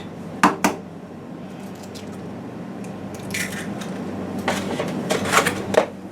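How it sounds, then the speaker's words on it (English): An egg is cracked into a bowl in a home kitchen, making a couple of quick sharp taps followed by a wet squishy plop and light clinks of the bowl. "I'm going to put 1 egg in it."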